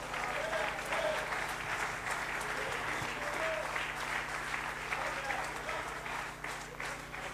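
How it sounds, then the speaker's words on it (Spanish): A congregation at a church service applauds steadily and fairly loudly throughout, a dense wash of clapping with no break. "Dele ese aplauso de alabanza al Señor."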